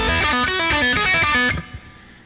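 An electric guitar plays a quick lick of rapid picked notes with pull-offs and a triplet figure, bright and close, ending on a note that rings out and decays, with no talk.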